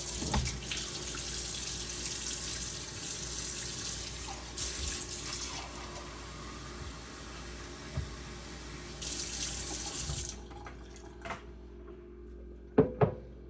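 Water runs from a kitchen tap into a can for about ten seconds, steady and close, then cuts off, leaving a few soft clanks and knocks at the end.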